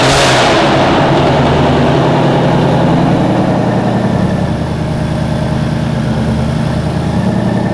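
A car engine after new spark plugs are fitted and gapped, caught just after start-up and settling into a steady, loud, close idle. A low rumble runs evenly throughout with no misfire gaps and no voices.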